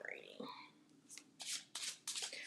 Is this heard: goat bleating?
no